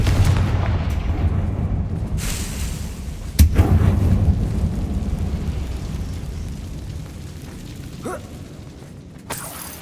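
A Confringo spell explosion in the Hogwarts Legacy video game, heard as a sharp boom followed by a few more blasts and crackling impacts over a rumbling game ambience.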